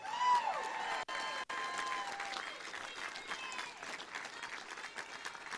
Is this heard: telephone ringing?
no